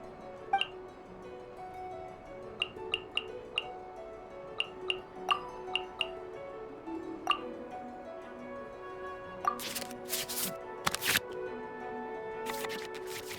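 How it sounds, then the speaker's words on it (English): In the Genius Invokation card game in Genshin Impact, soft interface ticks and chimes tap out at intervals. Two short bursts of rapid, papery card-shuffling sounds follow near the end. "we can select any number of cards in our hand to shuffle back into the draw pile"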